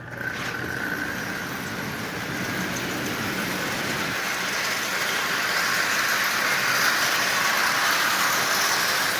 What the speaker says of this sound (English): Let's see how it runs on the rail,